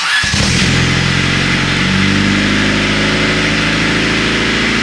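A car engine cranks and catches, then settles into a loud, steady idle with a deep, constant rumble.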